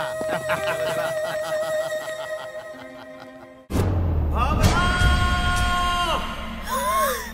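A man in a disguise yells in a Hindi-dubbed South Indian comedy film, loud shouting bursts over a sudden jump into busy music and sound effects after a quieter musical passage.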